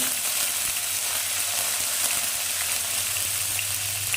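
Chana dal, fennel seeds and curry leaves sizzle in hot oil for a gourd gravy, making a loud, close, continuous frying hiss with no voices over it.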